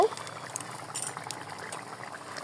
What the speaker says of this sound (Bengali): এই দেখুন কি দারুণ ঝোলটা টকবক করছে